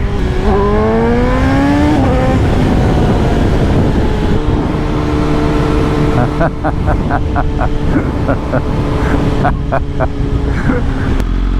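A nearby motorcycle, probably a 2025 BMW M 1000 XR or Honda Africa Twin 1100, runs with a loud engine drone and rising tones early on, then settles into a steady rumble under traffic noise.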